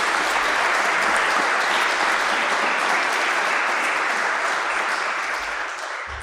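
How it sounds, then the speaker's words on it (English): A large audience at a debate applauds steadily, a dense wash of clapping that holds strong and then begins to taper off toward the end. "If you could also give him a round of applause."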